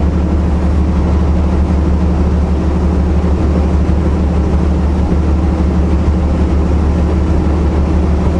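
A short freight train rumbles past on the way to Tacoma, Washington, a steady, loud, low-pitched roar of engine and rail noise that holds constant throughout without breaks.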